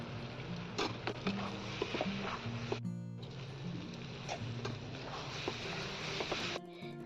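Spices and chopped spinach sautéing in a pan while someone makes a vlog before Saraswati Puja: a steady, soft sizzle with scattered clicks and scrapes of stirring, a brief pause midway, no talking.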